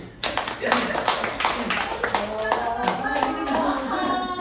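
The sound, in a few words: clapping hands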